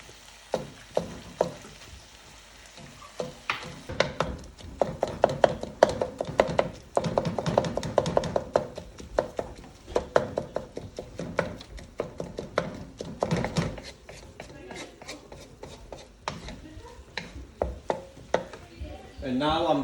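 Ground bison is broken up in a cooking pan with a utensil, making a long run of sharp taps and scrapes against the pan over a soft sizzle.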